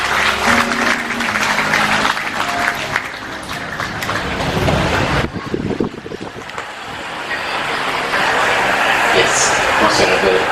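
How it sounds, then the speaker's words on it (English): An audience at a Buddhist temple's 100th anniversary in Sentul applauds the chief monk. Dense, loud clapping from a large crowd carries on for several seconds, mixed with voices and a windy outdoor rush. "Let's give a round of applause to Chief Bhante."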